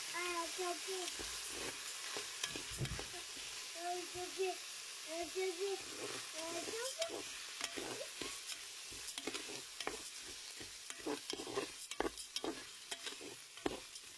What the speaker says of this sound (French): Donc maintenant je vais ajouter mon riz.